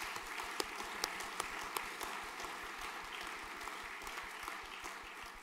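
Audience applause at a junior school graduation prize giving, steady clapping from a seated crowd, fairly soft and distant with a few sharper individual claps standing out.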